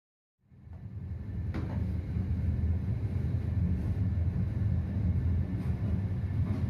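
The Argo Bromo Anggrek express train pulls away after a night stop, heard from inside as a low rumble that swells and holds as a steady, loud rolling drone with faint rail knocks.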